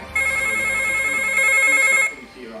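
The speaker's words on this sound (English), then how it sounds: "The phone rings" A telephone rings with a steady, shrill electronic trill that stops after about two seconds, leaving low background noise.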